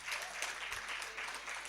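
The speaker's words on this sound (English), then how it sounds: "Give yourselves a clap." Audience clapping at a launch event, an even patter of many hands at moderate volume, continuous for the whole short stretch.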